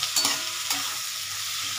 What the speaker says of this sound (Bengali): এটা একটু লালচে লালচে একটু ভাজা ভাজা হয়ে যাক পেঁয়াজটা